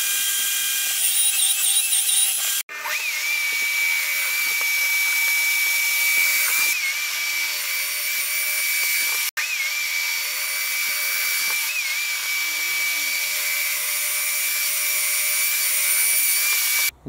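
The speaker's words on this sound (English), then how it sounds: "Lots of holes to drill." A power drill bores a long run of holes in wood for a laminated outdoor table, with a steady high whine in several sustained bursts separated by brief stops, close and loud with no talk.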